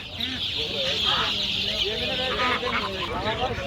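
Colourful chicks cheep at a poultry and bird market, a dense chorus of high peeping with clucking fowl beneath, while a voice talks over the birds.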